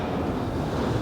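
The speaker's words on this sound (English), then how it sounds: "It's a bit windy up here today, so I've got a bit of rattling and clattering of the panels" Strong wind buffets the microphone with a steady, rumbling roar beside a Suzuki Swift SZ4 4x4 car; any rattling of the unit's panels is buried in the gusts.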